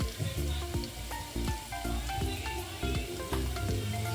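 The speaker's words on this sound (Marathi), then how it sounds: "आणि डाळ चांगली भाजून घेणार आहे आपण थोडी." Browned crispy onion with turmeric and dal sizzles steadily while roasting in a pan, a continuous close crackling fry with light stirring clinks throughout.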